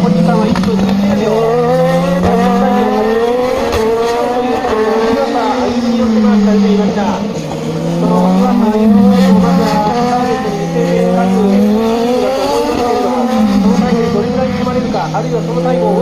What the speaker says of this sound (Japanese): 坪井の最初の1コーナーの飛び込み、屈伸のポイントは外したくない